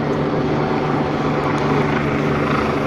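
A helicopter flying over a street march in Mexico City, a steady, loud rotor and engine drone with no talk.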